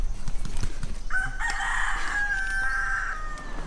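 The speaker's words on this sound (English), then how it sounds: "we just got greeted by a chicken." A rooster crows close by at Kaumana Caves near Hilo, Hawaii, one drawn-out cock-a-doodle-doo over a busy outdoor background with bumps and rustling.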